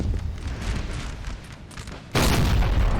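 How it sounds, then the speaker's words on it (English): Artillery firing in the game Napoleonic Total War 3 during a 4v4 battle, a muffled battlefield rumble that jumps into a loud, sustained booming roar partway through. "This artillery really needs to start firing. I mean, they are."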